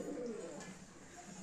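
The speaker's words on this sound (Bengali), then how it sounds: "সব নেমে গেছে পায়রা সব।" Pet pigeons cooing softly close by, a brief low warbling coo in a quiet setting, faint and over within a moment.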